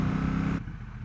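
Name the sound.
Triumph Bonneville Bobber 1200 motorcycle riding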